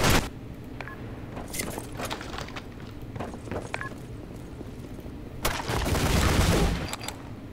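AK rifle fire in a snowy online shooter match, sharp bursts of shots scattered through the clip and a heavier sustained volley near the end, with background game noise and no clear speech.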